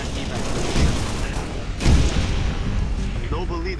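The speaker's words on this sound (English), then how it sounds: "It's a grenade fest, fellas!" Dense, rumbling grenade explosions and gunfire from Halo: Reach fill the clip in a constant loud barrage, with one heavier boom near the middle.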